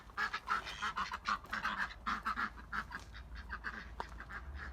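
Ducks quack repeatedly in a lively, overlapping chorus of nasal calls, fairly close, with a faint background hum and no talking.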